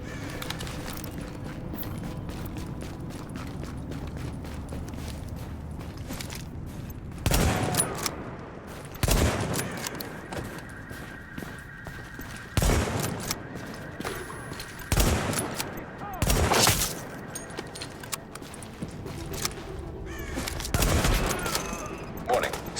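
Hostile gunfire crackles in The Division, with repeated bursts of automatic fire near and far cutting over a steady background rumble, while a synthetic voice repeats alerts between the volleys.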